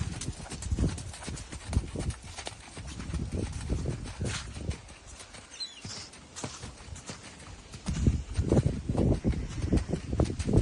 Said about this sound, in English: Whenever you're ready, Ben, you can probably go forward to canter